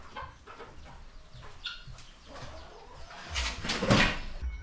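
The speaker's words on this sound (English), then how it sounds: "chasing the chickens out of your kitchen" Chickens cluck and squawk inside a farmhouse kitchen on a Filipino farm. Scattered clucks are followed by a louder burst of flapping and squawking near the end.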